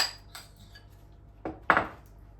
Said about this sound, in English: Spoon it all into the middle, and then we're just going to spread that out.